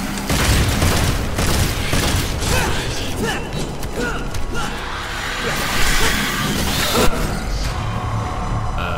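Pistol gunfire and combat effects from the video game Devil May Cry 5 pop and boom over a dense, loud game soundtrack, with a person speaking over the top.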